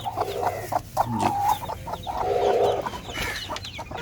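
Two hens in a cage cluck and murmur nearby in short, uneven bursts, with a few louder squawks and rustling in between.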